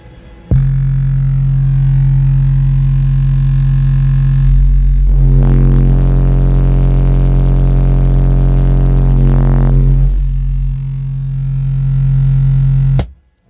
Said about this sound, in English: Next, we're going to try 45 hertz.